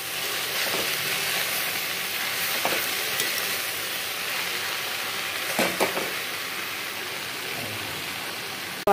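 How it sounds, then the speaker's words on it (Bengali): Leafy greens (shaak) fry steadily in a pan with chilli, giving a continuous close sizzle and hiss, broken by a few brief stirring scrapes and clacks from a spatula. "হালকা হালকা এরকম ভাজি হচ্ছে হোক"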